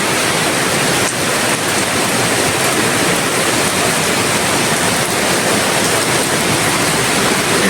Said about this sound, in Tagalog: Lumakas na talaga ang ulan.